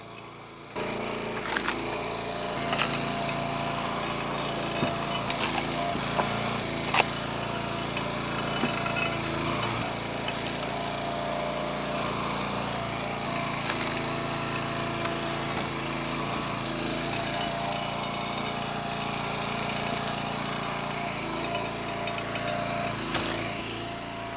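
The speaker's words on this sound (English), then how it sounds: "this was the first time my wife had operated the splitter" A Split Fire 3490 log splitter's small gas engine runs steadily while splitting sycamore and oak, a constant close mechanical drone with occasional clanks and knocks over the long stretch and no speech.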